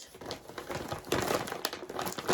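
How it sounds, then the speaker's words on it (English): Packaging crinkles close by in short, irregular bursts of dry rustling and crackling, fairly quiet overall, with no talk over it. "Sorry for the crinkling."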